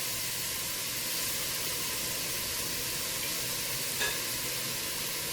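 Seasoned pork tenderloin, rubbed with salt, pepper and olive oil, browns in a hot pan with a steady, even sizzle throughout and a brief brighter crackle near the end.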